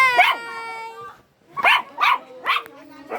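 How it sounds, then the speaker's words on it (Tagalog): A dog barks and yips several times in quick succession, close by, with a short pause after the first bark. "nakita ko yung aso ko"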